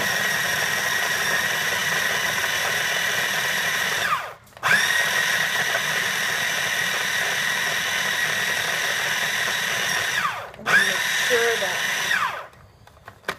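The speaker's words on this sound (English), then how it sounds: "And I grind everything together" An electric grinder blends seasoning for a Cuban roast pork, giving a loud, steady, close-up whir that runs in long bursts and stops briefly twice.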